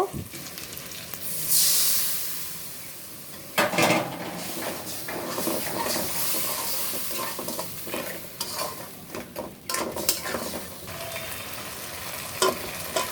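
A spice mix of ginger paste, garlic paste, tomato, chili powder and salt sizzles and crackles in a pan for a meat curry, with repeated scraping stirs and occasional utensil knocks, close and moderately loud.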